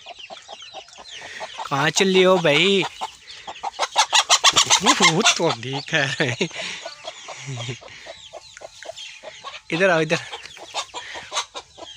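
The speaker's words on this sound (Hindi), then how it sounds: "देसी मुर्गियाँ माशाल्लाह, ये देखें बाहर खेतों में वॉक कर रही हैं।" Free-ranging desi hens cluck and squawk close by in agitated bursts outdoors in fields, while someone talks over them at moments.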